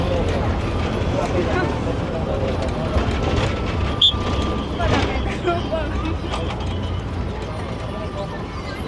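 Inside a moving, crowded city bus in India: a steady engine and road rumble with rattling mechanical clatter throughout, and faint voices in the background.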